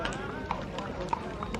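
Horse hooves clip-clop at a walk in Prague, light rhythmic knocks mixed with outdoor noise and a voice talking over them.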